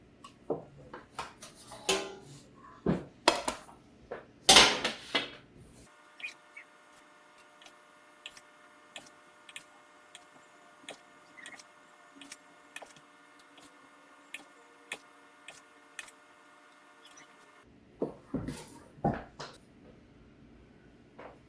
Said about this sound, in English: All the pinwheels cut up and they're ready to go in the oven